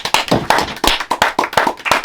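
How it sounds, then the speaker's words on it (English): A few people clapping in a loose, uneven rhythm, sharp close slaps spaced roughly a quarter second apart, with no talking over them. "Everybody give a clap for that."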